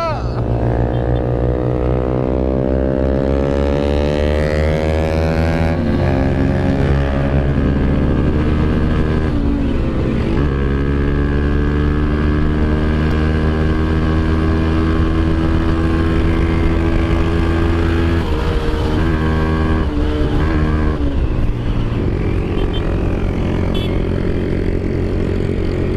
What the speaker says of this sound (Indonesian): Coba kita ajak si SBP tarik gas